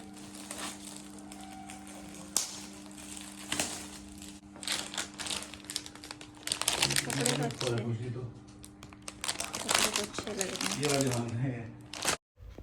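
A birthday gift package wrapped in a lot of tape being unwrapped at close range, with continuous crinkling, crumpling and tearing of paper and tape while someone talks over it throughout.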